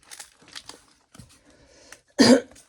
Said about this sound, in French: j'en ai marre de tousser